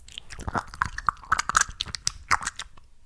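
Close-up ASMR wet mouth sounds, soft clicky, smacking and moist crackles in an irregular quiet sequence, intimate and near with no speech.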